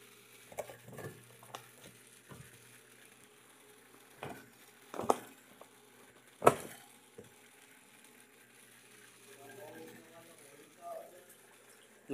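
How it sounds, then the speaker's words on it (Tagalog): Water drips and patters irregularly inside a flooded house, scattered close splashes with occasional louder drops over a quiet background, with voices talking faintly near the end. "Ayan guys, ang lakas pa ng tulo dito."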